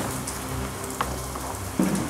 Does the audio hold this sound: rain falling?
yes